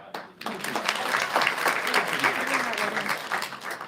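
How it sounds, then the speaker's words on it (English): A class audience applauds together at a live lesson, a dense, steady burst of clapping from many hands that starts abruptly and holds at a constant level to the end. "Give a clap for"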